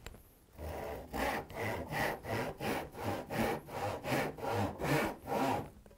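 A backsaw cuts through wood in about a dozen even back-and-forth strokes, each a rasping swish with a short pause between, close and clear with no talk.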